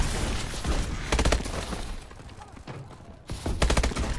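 Close, loud bursts of automatic gunfire from the Call of Duty: Advanced Warfare game come in short rapid volleys separated by brief lulls, with a final burst near the end.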